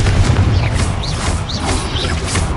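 In Hogwarts Legacy, the Confringo blasting spell fires off, bringing a heavy, booming rumble with several fizzing whooshes layered over a dense low roar, loud and close.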